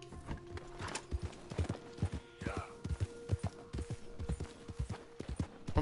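Steady clip-clop of horse hooves at a riding pace in Red Dead Redemption 2, close and rhythmic with a few soft snorts, over a low game ambience.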